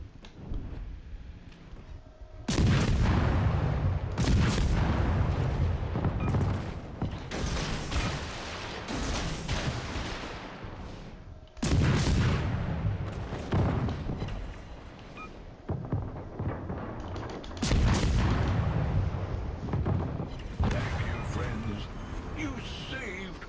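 Naval ship guns fire in repeated heavy broadside salvos during a World of Warships match with a Furutaka cruiser, loud booming bursts several seconds apart, each trailing into rumbling decay.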